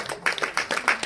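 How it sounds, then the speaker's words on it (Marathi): Audience at a magic show claps in a short burst of several quick, close hand claps. "टाळ्या वाजवा तर एकदा"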